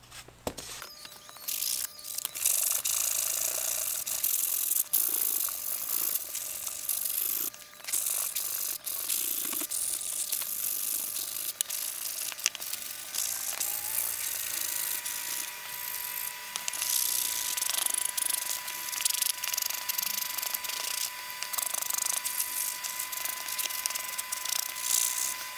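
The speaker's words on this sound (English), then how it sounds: "now we're going to go ahead and start to sand and round those" Wooden tail parts for a 47% scale Pitts Special model aircraft being sanded and rounded at the edges, a continuous bright abrasive rasp with short pauses, close and alone.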